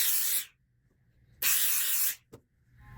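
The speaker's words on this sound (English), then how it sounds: "you just have to steam it or iron," A steam iron lets out two strong hissing bursts of steam onto dress fabric, each about half a second to a second long, separated by silence, followed by a brief puff.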